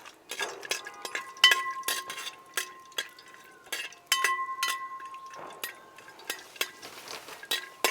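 Cashews stirred in hot ghee for banana leaf halwa: a spoon scraping and clinking against the pan in irregular bursts, with a faint sizzle underneath, close and fairly quiet, with no talking.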